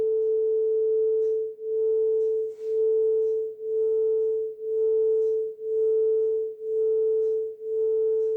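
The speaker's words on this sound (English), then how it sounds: "So now the one source is giving the sound of 440 Hertz. Other source, it is giving the sound at a frequency of 441 Hertz." Two pure sine tones at 440 Hz and 441 Hz sound together, a steady clear hum that swells and fades about once per second in a smooth, regular beating pulse, with no talk.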